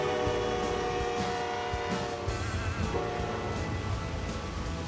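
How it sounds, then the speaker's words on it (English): A model railroad freight train hauling green and yellow John Deere tractors runs steadily nearby, a continuous rumbling roll with layered tonal whine and rail clatter throughout. "Here's a long freight train carrying green and yellow John"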